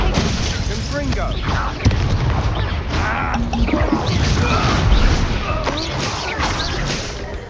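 The Confringo blasting spell explodes in Hogwarts Legacy, with booming blasts and crackling impacts in a dense battle mix, a sharp hit near the two-second mark, while voices talk over it.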